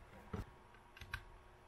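Keys clack on an Azio Retro Classic mechanical keyboard, a few sharp, close keystrokes with pauses between them in otherwise quiet surroundings.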